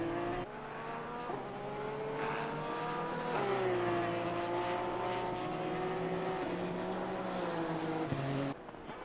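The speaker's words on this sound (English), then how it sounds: "Oh, there's a Ferrari." Ferrari race car in the ACC racing game at the Zolder circuit, a steady loud engine drone with shifting pitch and gear changes, running continuously before cutting off near the end.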